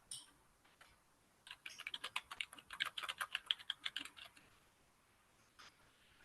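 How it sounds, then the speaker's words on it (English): Someone types on a computer keyboard in a quick, uneven run of clicking keystrokes, faint and heard alone, with a few scattered taps before and after. "So I can hear somebody typing."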